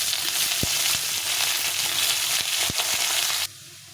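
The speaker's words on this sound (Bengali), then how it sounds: "এটাকে ভালো করে লাল লাল করে ভেজে নিতে হবে।" Pieces of kohlrabi fry in oil in a pan, making a loud, continuous close sizzle with a few sharp clinks of a utensil. The sizzling cuts off abruptly near the end.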